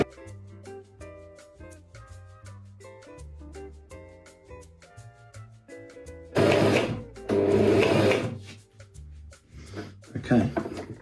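A domestic sewing machine stitches fabric in short, rhythmic bursts with pauses between runs, then a louder, sustained run of stitching near the end, close and clear with no talking.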